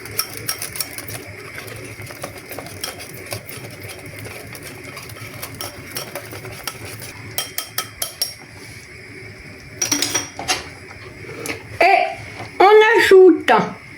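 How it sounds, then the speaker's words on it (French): A whisk stirs veal blanquette in a metal pot, giving light scraping and clinking against the sides, intermittent at first and then louder, quick rattling bursts toward the end, under a person talking. "On mélange, mais on va prendre un fouet"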